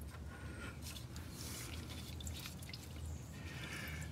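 Fluid drains from a Honda S2000 during a transmission and differential fluid change, a quiet continuous trickle and drip with scattered small splashes, close by, with no talking.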